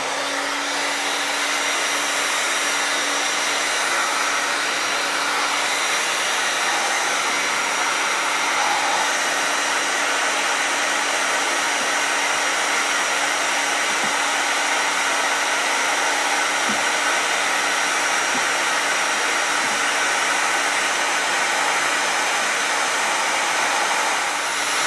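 A heat gun stripping the gold finish off an Epiphone Firebird guitar body gives a loud, steady blowing roar close to the microphone, with no talking.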